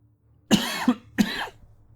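Two harsh, close coughs in quick succession, each a short burst, in an otherwise quiet room.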